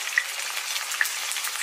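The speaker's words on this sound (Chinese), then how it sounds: "给它随意的翻炒几下" Lean pork slices with sliced garlic stir-fried in a wok, a steady close sizzle with faint scraping of the spatula, no voices.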